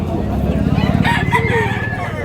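A rooster at a gamefowl market in Tabunok, Cebu, lets out a single drawn-out crow in the second half, rising and falling over a steady murmur of background noise.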